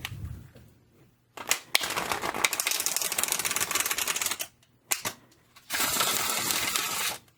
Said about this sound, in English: apologize for my poor shuffling.